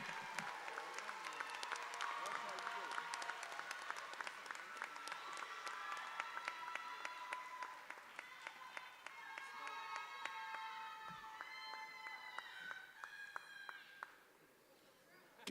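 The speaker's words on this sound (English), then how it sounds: "Can we have another round of applause for Aisha, please?" A crowd at a San Jose State University Black graduation ceremony gives sustained applause, with dense clapping mixed with cheering and whooping voices for about fifteen seconds before it drops off abruptly near the end.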